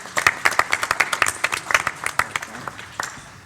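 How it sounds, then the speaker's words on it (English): A crowd claps in a burst of applause, dense overlapping hand claps that thin out toward the end, with faint voices mixed in. "please give John a round of applause"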